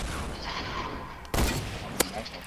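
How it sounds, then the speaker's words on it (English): Hunting rifle fire in the Fortnite battle royale video game: game ambience runs under a single loud sharp shot, followed by a smaller crack a moment later. "it shoots a sniper bullet"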